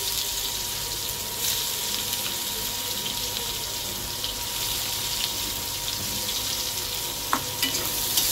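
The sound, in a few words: chopped onions frying in oil with black cumin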